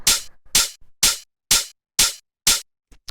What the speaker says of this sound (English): Like to me, this just sounds like one hi-hat.